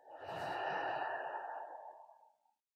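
One long, slow breath drawn during a lying butterfly stretch, a smooth airy rush that swells and then fades away gradually, close and clear with nothing else around it.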